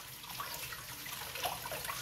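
A King Deluxe #800 whetstone is rinsed under a stream of running water, giving a soft, steady splashing trickle, quiet and close, with no talking.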